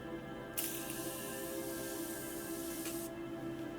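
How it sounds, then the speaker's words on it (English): A continuous aerosol of makeup setting spray hisses close by onto a face for about two and a half seconds, starting abruptly and cutting off, over a quiet low hum. "I just like cover my lips because I don't want to taste it. Duh. And I just spray all over."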